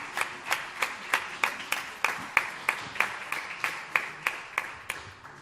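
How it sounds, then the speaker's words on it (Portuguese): Church congregation giving loud applause to Jesus Christ, a steady rhythmic clapping of many hands in sharp regular beats, fairly close and continuing throughout. "dê um aplauso a Jesus Y un Cristo. fuerte aplauso a Jesucristo."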